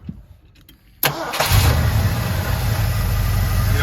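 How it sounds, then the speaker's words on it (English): A 1985 Ford F250 Lariat 4x4 is quiet at first, then the engine cranks and catches about a second in, and the running engine settles into a loud, steady idle close by. "I'm gonna have Leslie start it up. Here it run."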